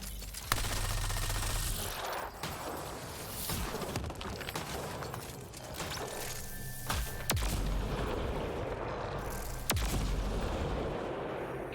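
In the sci-fi shooter Mass Effect: Andromeda, a few heavy booms and sharp impacts strike amid mechanical clanking and rumbling combat noise, near and punchy, with no one talking.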